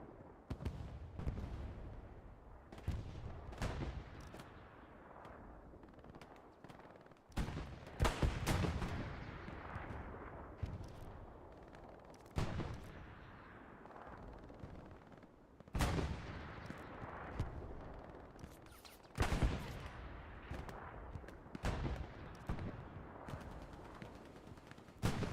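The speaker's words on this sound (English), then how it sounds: "AT gun." Anti-tank gun fire in an Omaha Beach video game battle; heavy booming shots repeat at irregular intervals across the clip, each with a sharp crack and a rumbling tail, mostly near and loud amid background battle noise.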